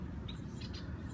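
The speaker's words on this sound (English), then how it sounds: "something just scared the birds." Small birds give a few faint, brief chirps outdoors in a park, barely rising above a steady low rumble of background noise.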